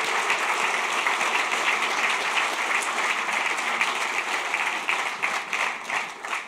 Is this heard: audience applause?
yes